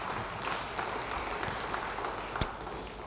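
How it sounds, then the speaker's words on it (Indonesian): A church congregation gives faint, scattered applause during a sermon, soft, sparse claps over a low, noisy background, with one sharper clap standing out near the end. "Yang percaya beri tepuk tangan bagi dia."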